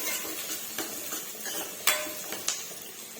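Onions frying in a pan toward golden brown, with a steady soft sizzle under scattered scrapes and clinks of a utensil against the metal, including two sharper knocks.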